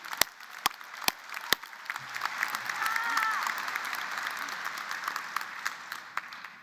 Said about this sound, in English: Yes, we should applaud that.